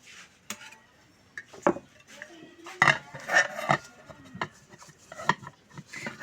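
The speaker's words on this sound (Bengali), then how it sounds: "এখন আমরা পুডিংটি আমাদের প্লেটের উপর ঢেলে নিব গাইস।" Caramel pudding being turned out onto a plate: scattered clinks, knocks and scrapes of a metal mould and dish against each other, irregular and close, with quiet gaps between.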